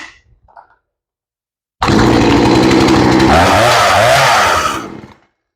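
A warm chainsaw with a newly replaced carburetor fires up without choke after a short silence and a couple of faint knocks, then runs loud and close, revving and settling into a steady roar for about three seconds before cutting off.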